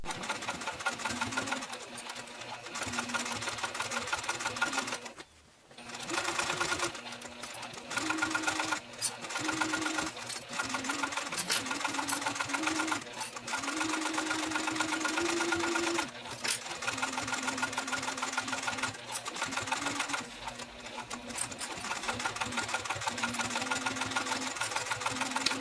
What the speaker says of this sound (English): This time you're going to take it to the sewing machine. You're going to stitch it at 1/4 of an inch seam allowance.